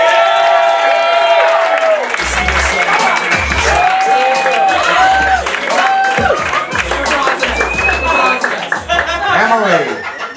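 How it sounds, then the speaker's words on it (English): Comedy club audience at a roast battle applauds and cheers as a comedian is brought on, loud sustained clapping with whoops, laughter and chuckles, and a voice talking over the crowd. "clap it up as loud as you can for Emily Winter."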